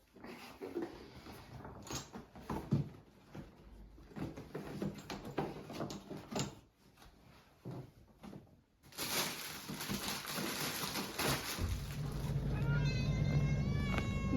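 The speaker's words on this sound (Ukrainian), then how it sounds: "Котик." A cat meows several times amid rustling and household movement, followed by a steady hum and a long drawn-out whine near the end.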